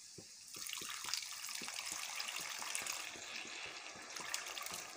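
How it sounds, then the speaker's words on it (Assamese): Water poured into a pot of small fish and onion curry, a steady splashing trickle with a faint rhythmic gurgle throughout, fairly quiet and close. "মাছ আৰু পিঁয়াজখিনিৰ পৰিমাণত পানীখিনি দি দিলোঁ।"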